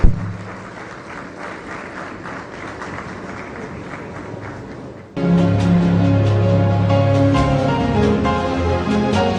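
Audience applause at an awards launch event, steady clapping throughout that swells abruptly louder halfway through, with strong tonal music joining in the second half.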